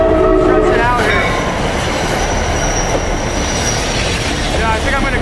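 Train rolling past in Hall Monitors 2, a loud continuous rumble of wheels on rails with high metallic squeals rising and fading, close and steady throughout.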